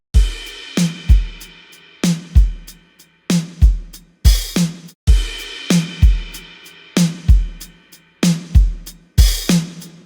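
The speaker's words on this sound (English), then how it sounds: "I do have a bit of distortion and compression happening on the master." A loud, punchy drum-driven music loop with heavy compression and gritty distortion on the master bus, kicks and snares hitting in a steady, pumping rhythm.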